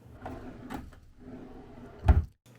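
A drawer in a hotel room slides open with a soft rubbing scrape and ends in a close wooden thud, heard alone and fairly quiet.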